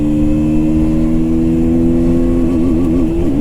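A KTM Duke 160 motorcycle accelerates hard through first gear, its engine note droning loud and close and climbing steadily in pitch as the revs build.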